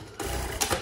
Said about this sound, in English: we are under sewing as well because we're sewing our seam allowance to our